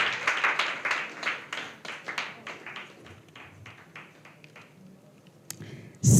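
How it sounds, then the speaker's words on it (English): A demo-day audience gives a round of applause: scattered, crisp claps that start fairly brisk, then thin out and fade toward the end. "Give a round of applause for them now."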